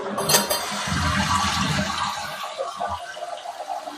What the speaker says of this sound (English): All right, let's flush it.